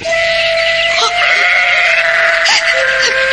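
Goats bleat in a pen in a radio drama scene, several loud, close, wavering calls overlapping in quick succession.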